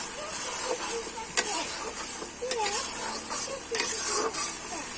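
Khichuri cooking in a pot over a wood-fired stove at an outdoor family picnic is stirred with repeated scraping and clinking, against a continuous sizzle and hiss of the steaming food.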